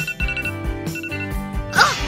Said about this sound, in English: Guess it's time to wake up. Where's my phone? Okay, let's shut off this alarm.